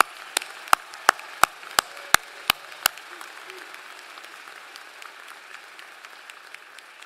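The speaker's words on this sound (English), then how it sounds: "Let's give this group a round of applause." Applause at a university commencement ceremony for a graduating class: about eight sharp, evenly spaced claps ring out clearly, then fade into a soft, scattered patter of quieter clapping in a reverberant hall.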